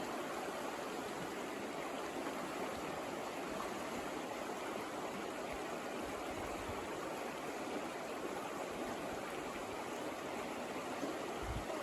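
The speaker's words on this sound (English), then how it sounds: "The current does get fast in the middle." River current during a canoe crossing on the Appalachian Trail flows as a faint, steady, even wash of rushing water with no breaks.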